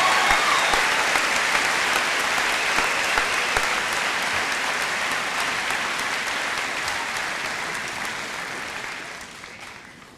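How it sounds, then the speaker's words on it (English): High school graduation ceremony audience applauds the retirees with long, sustained, even clapping from a large crowd, tapering off near the end. "would you join me in a round of applause for all of our retirees?"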